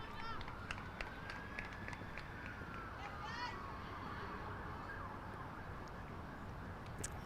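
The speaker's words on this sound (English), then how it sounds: "Sirens going off everywhere." Distant emergency sirens wail faintly across a women's one-day cricket match, a rising and falling tone running steadily beneath constant broadband crowd and ground noise.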